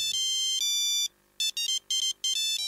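A phone ringtone plays a song as a bright electronic melody in loud, clipped bursts of notes with short gaps between phrases; no one speaks.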